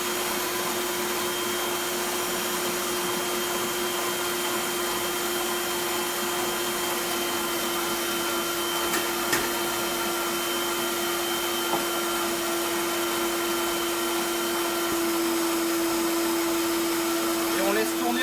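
Electric mixer whipping egg whites and sugar into meringue, a steady continuous motor hum with a constant tone running the whole time, close and even, with slight bumps near the end.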